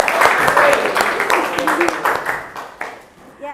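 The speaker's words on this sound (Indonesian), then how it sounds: "Tepuk tangan untuk Malaika." Audience in an Indonesian teacher-training classroom breaks into applause, a dense crackle of many hands clapping that runs steadily for a few seconds, then thins out near the end.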